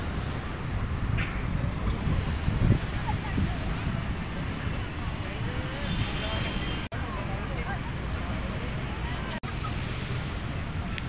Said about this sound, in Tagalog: Medyo malaki-laki yung alon.